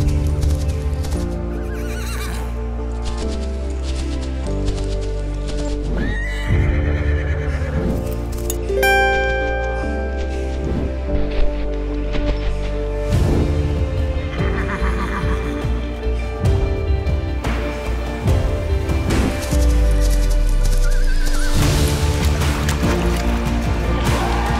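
An Arabian horse neighs loudly in a long, shrill whinny. Hoof clip-clops and continuous stable noise surround it, and a few more snorting calls follow.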